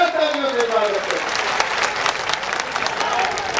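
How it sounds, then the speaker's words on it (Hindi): An audience bursts into dense, sustained applause welcoming a speaker at a public gathering, the clapping loud and steady throughout, with a voice faintly heard over it at the start. "जोरदार तालियों से स्वागत करें।"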